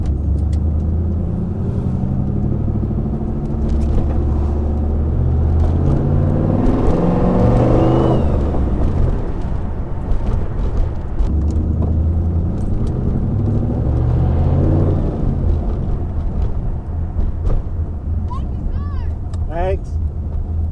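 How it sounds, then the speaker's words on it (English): Turbocharged LS-swapped Pontiac Trans Am on a low-boost pull, recorded from inside the cabin: a loud, steady engine drone with rising revs that swells around the middle, droning on for twenty seconds with voices speaking over it. "We're gonna do a low boost pull and see how loud this thing is from inside."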